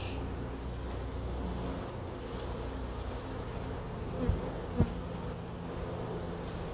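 A steady, dense buzzing of many honeybees fills the whole stretch during a hive check, close and continuous, with a couple of brief soft knocks near the end.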